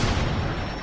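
A loud, dense rumble of explosions in the video game Rainbow Six booms continuously, heavy and close, with no clear gaps between blasts.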